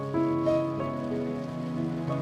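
Heavy rain falls in a continuous, even wash at moderate loudness, with sustained tonal sounds layered over the downpour.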